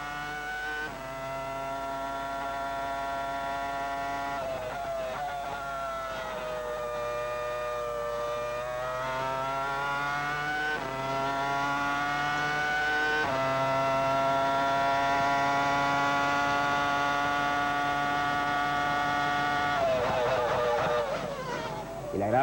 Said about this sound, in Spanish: El agradable sonido del motor del Renault de Alonso